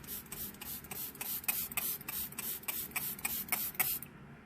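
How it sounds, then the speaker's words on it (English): Misho Beauty setting spray mists from a pump bottle in a steady series of about a dozen quick, close hissing sprays that stop abruptly. "One thing I haven't done yet is use the Misho Beauty Setting Spray"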